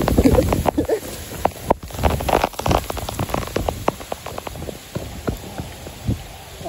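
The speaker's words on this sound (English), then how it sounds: "It's raining hard too." Heavy rain patters and crackles steadily on a nearby surface, with dense sharp drops and occasional louder taps throughout.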